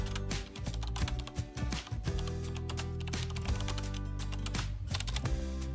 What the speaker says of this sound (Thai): และกรอกหมายเลขบัตรประจำตัวบัตรประชาชน 13 หลัก